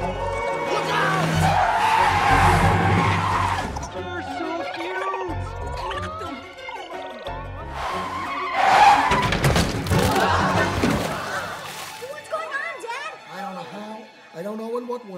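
Cars in an animated street-traffic scene skid to a stop with long, loud tire squeals and thumps. Voices shout over the commotion before the noise fades.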